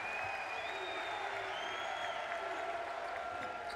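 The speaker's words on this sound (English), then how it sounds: "this UAB crowd on their feet" Basketball arena crowd at a UAB home game applauding and cheering steadily on their feet, a dense, loud wash of clapping and roar with a commentator's voice faintly underneath.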